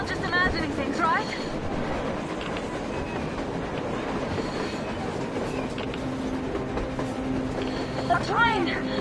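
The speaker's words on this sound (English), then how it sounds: "A train! A damn train on the surface!" A train rolling along the surface in the post-apocalyptic shooter Metro Exodus, a steady rumbling clatter with squealing wheels, heard loud and continuous beneath excited shouting voices.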